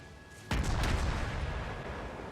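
A heavy naval gun salvo in World of Warships fired at a Karlsruhe cruiser, one sudden loud boom followed by a long rumbling roar that slowly fades without any voice over it.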